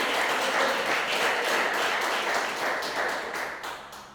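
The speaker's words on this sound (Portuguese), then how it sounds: "Tem palmas para Ele?" A church congregation claps together in steady, dense applause that holds loud for several seconds and then tapers off toward the end, with no talking over it.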